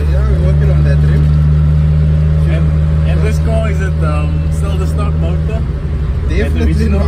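A Datsun with a modified L16 engine runs loud and steady, its strong low drone holding for several seconds before easing off near the end; voices are faintly present beneath it.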